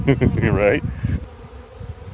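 Bees swarm out of a hollow tree limb, a dense buzzing hum close by that carries on after a brief spoken word at the start.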